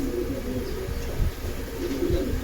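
Silver pigeons coo softly nearby, low rolling calls repeating over a steady background hum with no talking.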